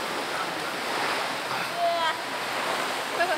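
Sea waves wash onto a Thai beach shore in a steady, close rushing surge with faint brief tonal sounds mixed in.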